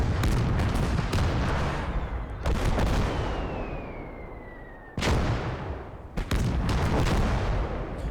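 Loud, dense gunfire and booming blasts from the World War II game Call To Arms: Gates Of Hell, with an overlapping barrage, a thinning stretch carrying a high whistling tone, then fresh sharp volleys.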